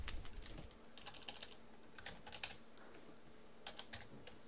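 Quiet computer keyboard typing comes in short bursts of rapid keystrokes separated by brief gaps, close and faint, with no talking.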